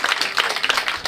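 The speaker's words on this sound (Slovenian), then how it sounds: "In aplavz seveda tebi." Short burst of applause from a small audience at a literary book event, a quick patter of hand claps lasting about a second, fairly close and moderately loud, with no voices over it.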